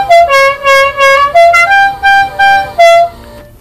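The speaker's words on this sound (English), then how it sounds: "we got the air horns in the little Dixie mobile here" A loud musical car air horn, the General Lee Dixie horn, blares a tune of about eight sustained tooted notes, each separated by brief gaps, close to the listener.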